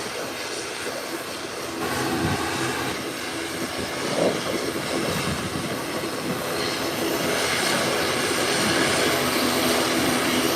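A Twin Otter turboprop taxis toward the runway at an airport, a loud, steady engine drone with broad roaring noise that swells slightly over time, heard at some distance with no talk.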